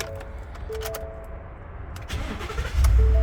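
A 2018 Ford F-150 with a 5-liter V8 starts up: a short cranking burst late in the clip catches into a loud, low engine rumble after a stretch of quieter background noise and faint beeps.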